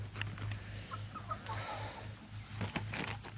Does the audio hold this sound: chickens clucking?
yes